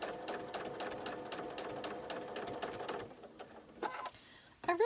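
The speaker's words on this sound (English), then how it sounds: "first thing I'm going to do is stitch in the ditch around them" Sewing machine stitching in the ditch on a quilt, a quiet, rapid mechanical whirr with a steady ticking rhythm that slows and pauses near the end, and a voice speaks faintly beneath it.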